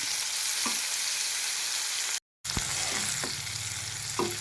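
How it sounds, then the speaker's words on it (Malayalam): Spiced masala sizzles in hot oil beside Kerala-style fried mackerel in a pan. The frying stays loud and steady, with a brief cut of silence midway and occasional spoon scrapes and taps. "ഇനി നമുക്ക് നേരത്തെ തയ്യാറാക്കി വെച്ച മസാല ഇതിൻ്റെ സൈഡിലിട്ട് ഒന്ന് മൂപ്പിച്ചെടുക്കാം"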